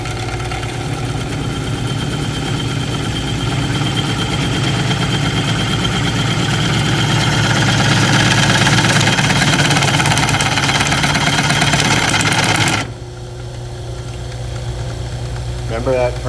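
A drill bit bores a hole in the body of a 1969 GTO convertible, a loud steady whirring grind that runs continuously and then cuts off abruptly, leaving quieter room noise behind.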